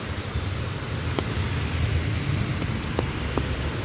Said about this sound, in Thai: ฝนตกลงมาแต่เช้านะครับ